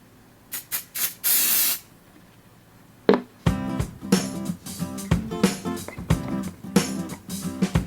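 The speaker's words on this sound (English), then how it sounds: "Before I forget, I need to spray some mould release." Short hissing bursts from an aerosol can of mould release, a few quick spritzes followed by one longer steady spray, then the clatter and knocks of resin-art mould preparation on a workbench.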